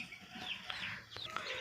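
Leghorn Dalmatian chicks peep in high, short chirps scattered across a moment, close but fairly faint over low background noise.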